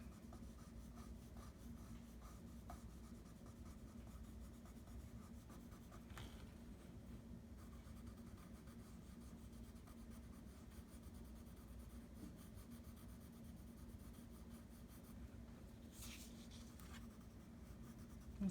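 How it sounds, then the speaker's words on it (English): Soft, steady pencil strokes scratch across paper while feathers of a resplendent quetzal are drawn, a faint continuous rubbing texture with small repeated strokes close to the mic, no talking. "So that is how I'm going to make my pencil marks."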